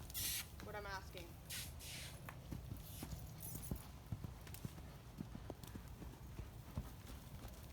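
Horse hooves clip-clop in a steady, fairly faint rhythm on the ground during a training session with the horse Eclipse, while a person talks over them.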